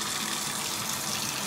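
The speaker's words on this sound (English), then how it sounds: "the shower, we put it on hot" Hot water runs steadily from a shower in farm worker housing during an inspection, a constant close hiss of spray with no talking.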